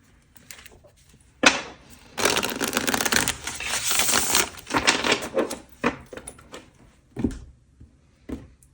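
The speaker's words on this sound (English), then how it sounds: "I'm going to shuffle one more time." Close-up rustling and riffling of tarot cards being shuffled, bursts of papery flutter and taps with short pauses, no talking.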